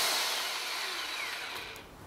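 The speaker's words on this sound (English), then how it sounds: "As a standard drill, it will just simply drill." A Titan TTB653 SDS drill runs steadily in standard drill mode without hammer action, giving a continuous high whine that tapers slightly toward the end. It sounds close and alone.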